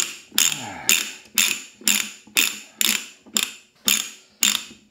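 A ratcheting pipe threader from a budget Vevor kit cuts threads on pipe, giving loud, close ratchet clicks about twice a second, each a sharp metallic snap that fades before the next stroke.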